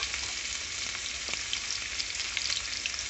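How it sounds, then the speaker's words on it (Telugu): Tomatoes fry in hot oil for a mint chutney, giving a dense, continuous sizzle that stays close and steady with faint stirring underneath. "నూనె వేడెక్కిన తర్వాత టమాటాలు వేసుకోవాలండి."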